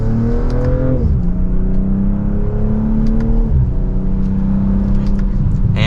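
A 2025 BMW M440i coupe accelerates hard in sport mode in second gear, its engine loud and continuous with rising revs that drop at two quick upshifts, heard alone from inside the cabin.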